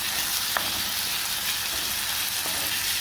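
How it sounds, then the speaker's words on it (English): Garlic and onion sauté in a hot pan with a steady, bright sizzle and hiss, constant and close throughout with a faint tap or two, no talking. "Just sauteing."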